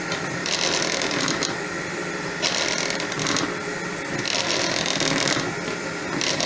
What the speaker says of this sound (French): Je peux diminuer un petit peu la vitesse du fouet.